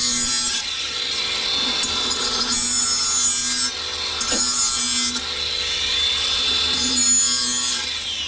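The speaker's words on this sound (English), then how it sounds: "And I just sharpen from here to here, trying to create a wedge shape." A lawn mower blade is sharpened with repeated long grinding strokes, each a close, loud, harsh rasp with short pauses between.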